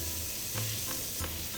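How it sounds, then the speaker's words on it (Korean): Chopped vegetables stir-fry in a little oil for a Korean stuffed tofu dish, a steady close sizzle broken by a few soft scraping strokes of the spatula, with no talking. "자, 두부 소박이 안에 들어갈 야채를 볶아 볼게요."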